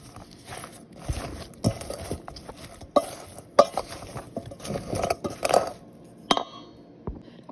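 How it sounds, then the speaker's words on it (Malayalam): A spoon stirs spices and salt into lime pickle in a bowl, with soft scraping, wet mixing and irregular clinks against the container, fairly close and quiet. "ഇതെല്ലാം കൂടെ നന്നായിട്ട് ഇളക്കി യോജിപ്പിച്ച് വെച്ചു"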